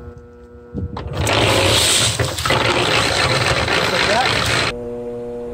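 An electric concrete mixer is switched on by hand after being plugged in, jumping from quiet to a loud, steady churning drone with a whirring motor hum, then dropping back as someone speaks briefly.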